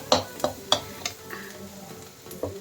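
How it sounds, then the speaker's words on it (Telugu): Sliced onions frying in a pan for a Telugu mung bean masala dish, soft sizzling punctuated by several sharp stirring clinks and scrapes of a spoon against the pan. "ఉల్లిపాయలు బాగా వేగనీద్దామండి"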